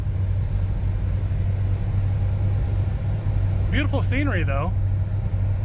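A $1,000 classic car rolls down steep hills, its engine and road noise a steady low rumble throughout; someone speaks briefly near the end.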